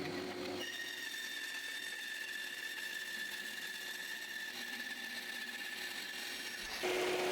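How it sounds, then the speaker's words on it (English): A bandsaw cuts pine end panels, giving a steady whining drone with a high tonal ring that holds evenly for several seconds before the blade sound drops away. "This is cutting up a couple of the end panels out of pine on the wonderful bandsaw"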